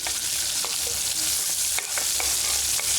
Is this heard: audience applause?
no